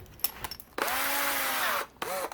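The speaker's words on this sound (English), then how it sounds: "put them on a drill and you can spin them, take your fine steel wool, and as it's spinning you can clean up your valve" A power drill spins an engine valve from a 2019-2023 Yamaha YZ250F against fine steel wool during a rebuild, giving a steady whirring hum of a bit under two seconds between short clicks and a brief restart.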